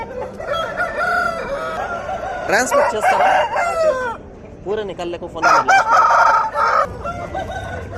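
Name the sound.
roosters crowing at a hen market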